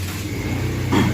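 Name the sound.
new motorbike engine starting and revving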